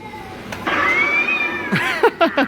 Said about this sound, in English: You can hear the cat screaming.